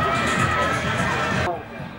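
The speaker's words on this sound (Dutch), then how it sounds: "applaus voor Jamie Reeves" Crowd cheering and applause at a 1993 Highland Games event, a dense, loud wash of noise that cuts off sharply near the end, with voices mixed in.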